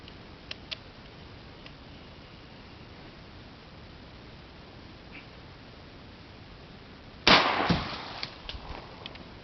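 A single loud shotgun blast firing quail shot, fired by a first-time shooter outdoors, rings out after a long stretch of quiet background hiss, followed by a short fading echo.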